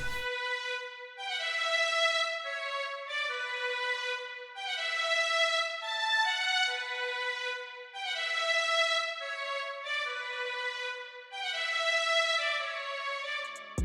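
An orchestral string pattern in FL Studio runs through reverb, delay and EQ that cut the lows and highs. The thin, bright repeating staccato phrases ring on smoothly with a washed tail, quiet and without voices.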